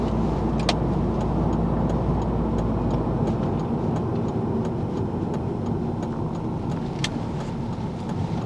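A car on a road, a steady low engine and tire rumble heard from close by, with faint ticking clicks over it and no talk.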